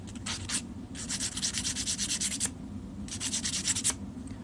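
Rapid back-and-forth sanding strokes chamfer the edges of each tine, close and scratchy, coming in quick bursts with short pauses between them.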